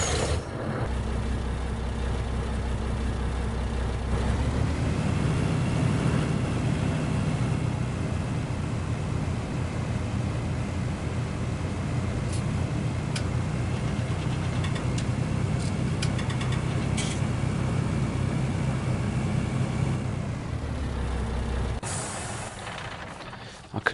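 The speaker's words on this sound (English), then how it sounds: "I'm going to back this truck up anyway" A heavy truck idling and reversing in Farming Simulator 19, a steady low engine rumble that swells as it moves, with short hisses and clicks near the end, loud and close.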